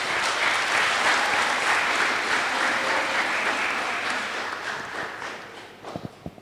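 Audience at a professorial lecture giving a round of applause, a dense sustained clapping that fades out over several seconds, ending in a few scattered claps.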